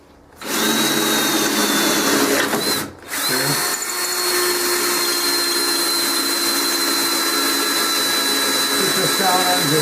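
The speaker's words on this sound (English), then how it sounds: "So we'll go ahead and drill this." A power drill whines steadily and loudly drilling through a thin metal tube, pausing briefly once before grinding on without talk.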